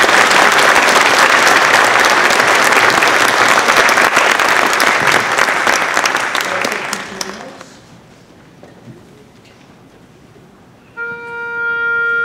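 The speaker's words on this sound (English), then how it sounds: "So how about a round of applause for all our students?" Audience applause for high school students at a wind ensemble concert in a museum hall, loud sustained clapping for about seven seconds that fades to near silence, followed by a faint tone.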